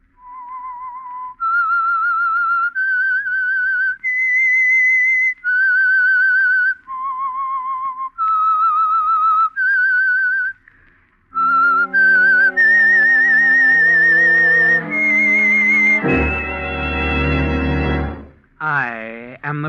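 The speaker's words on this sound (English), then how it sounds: "That whistle is your signal for the Signal Oil Program" A lone whistler performs the eerie theme of The Whistler radio mystery program, a clear wavering melody of rising and falling held notes, followed by a swelling orchestral sting with brass and strings that ends in a sweeping flourish.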